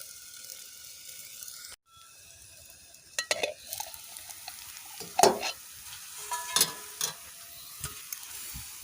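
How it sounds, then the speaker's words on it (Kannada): Brinjal slices fry on a hot tava in a home kitchen, giving a faint, low sizzle broken by scattered spatula scrapes and taps that grow busier toward the end. "ಇದು ಸ್ವಲ್ಪ ಗರಿ ಗರಿ ಆಗುವವರೆಗೆ ನಾವು ಇದನ್ನು ಇದೇ ರೀತಿ ಸ್ವಲ್ಪ ಫ್ರೈ ಮಾಡಿಕೊಳ್ಬೇಕು"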